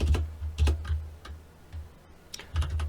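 Keystrokes on a computer keyboard while typing into a code editor, a short burst of close, crisp taps, a pause, then another quick run of clicks.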